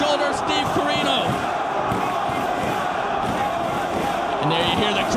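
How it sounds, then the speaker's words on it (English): Loud, dense crowd noise from a Ring of Honor wrestling match fills the arena steadily, with cheers and shouts swelling throughout and occasional voices rising out of the roar. "And there you hear the crowd there behind Homicide."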